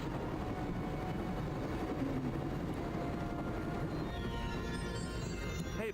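Steady train interior ambience in the Broken Sword Director's Cut PC game: a continuous rolling rumble and hum of the carriage, even in loudness throughout, with no voices.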